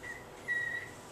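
A person whistles a single steady, clear high note, with a short faint whistle before a longer sustained one, alone in a quiet room during a networking meeting.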